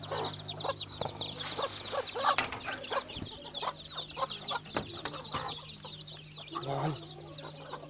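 A hen clucks near her small chicks on a rural Philippine poultry farm, with steady close clucking over chick peeping and outdoor farmyard ambience, alone without talk.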